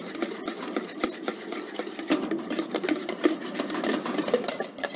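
A whisk beats egg yolks for hollandaise sauce in a bowl over a double boiler, a fast continuous clicking and scraping rhythm at moderate volume with no talking.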